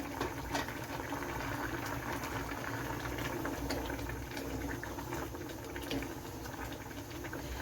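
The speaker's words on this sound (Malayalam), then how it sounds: "അപ്പം നമ്മുടെ ഗ്രേവിയൊക്കെ തിളച്ച് വരുന്നുണ്ട്." Chicken pulao gravy bubbling in a pot in a Kerala-style kitchen, a steady, dense simmering burble that runs unbroken and fairly close, with no voices over it.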